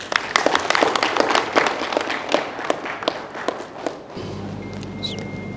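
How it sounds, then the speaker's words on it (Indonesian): Attendees at a political party's provincial board inauguration in Bangka Belitung clap in scattered, uneven claps for about four seconds, then the clapping stops abruptly, leaving a low room hum and faint background sounds. "Kita beri tepuk tangan semua."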